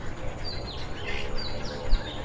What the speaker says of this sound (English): You'll see a lot of birds actually fighting to stay here.